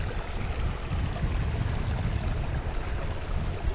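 A mountain stream rushes steadily, a broad continuous wash of flowing water with deep rumble and no break.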